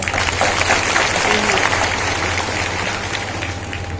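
An audience of women at a women's gathering claps loudly, a dense, steady wash of applause filling the whole moment, with some voices mixed in.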